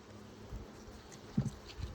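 Honeybees buzz faintly in an opened hive, with a soft, low hum and a few brief, slightly louder bursts of wingbeats close by, without any speech.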